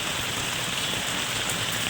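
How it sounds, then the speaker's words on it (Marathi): Constant rainfall pours down in a close, uniform rushing hiss, uninterrupted and without talk. "पाऊस आहे बघा चालू"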